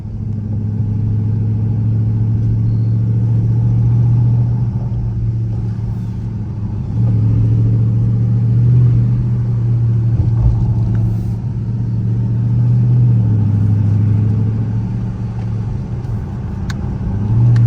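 A Dodge Charger RT's engine rumbles deep and loud from inside the moving car, a steady low drone that swells and eases with throttle, no talk.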